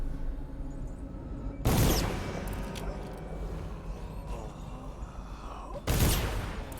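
Two loud gunshot bursts from the Dishonored video game, the first about a third of the way in and the second near the end, over a steady game ambience.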